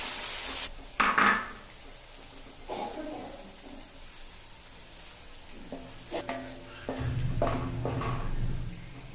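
Garlic and chili paste sizzling in hot oil for Manchurian, with intermittent stirring scrapes and clinks of a utensil against the pan, faint frying hiss throughout and a louder sizzle toward the end.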